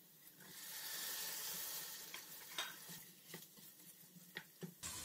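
Diced potatoes and tomato paste sizzle quietly in a frying pan, with a soft steady hiss broken by several sharp scraping stirs toward the end.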